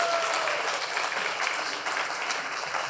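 Tepid round of audience applause at an awards gala, a steady dense patter of many hands clapping at moderate level for a few seconds with no talk over it.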